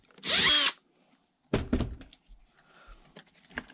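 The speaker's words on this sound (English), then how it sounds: "Basically just drill into it." A brief burst of a power drill spinning up into a block of wood and stopping, followed by a few knocks and faint shuffling sounds.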